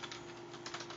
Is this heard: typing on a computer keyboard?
yes